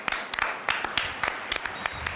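Stadium crowd applauding Barcelona players Lamine Yamal and Dani Olmo during a La Liga match against Celta, heard as a dense, fairly distant wash of clapping with sharper bursts throughout.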